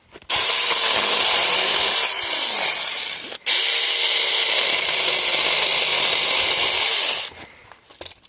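A cordless mini chainsaw cuts into a thick garden branch during orchard pruning, producing two long, loud, close whining bursts with a brief pause between them.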